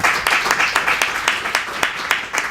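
An audience at a privacy conference panel gives a short round of applause, dense clapping that stays steady throughout with a faint voice underneath.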